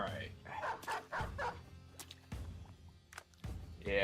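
A dog barks several times inside the video game Battle Brothers, sharp game-audio yips and woofs mixed in with other in-game sounds while a person talks over them.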